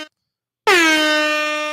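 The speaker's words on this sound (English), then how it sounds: "Where are the air horns?" A single loud air horn blast bursts in after a brief silence and holds steady as one sustained, brassy tone to the end, close and alone.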